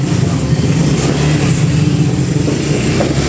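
A car engine revving steadily to warm it up, loud and close, with a dense continuous roar that holds for several seconds without a break and no talk over it.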